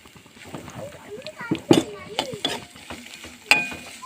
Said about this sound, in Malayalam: ഞാൻ കുറച്ച് ചെറിയ ഉള്ളി ഉണക്കമുളക് എടുത്തിട്ടുണ്ട് അതങ്ങ് കിട്ടുള്ളൂ ഒന്ന് വറുത്ത് ഊരി എടുക്കണം